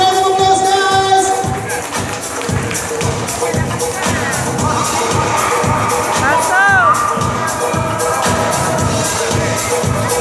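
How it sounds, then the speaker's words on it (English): A crowd cheers and claps at a beauty pageant's swagger competition while loud pulsing dance music plays, with shouts rising over the beat throughout. "Let's give them a big round of applause, guys!"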